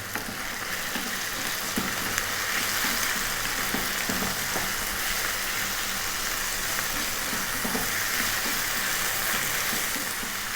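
Potatoes frying with chili and salt in a hot pan, a continuous loud sizzle with occasional scrapes and knocks of stirring throughout.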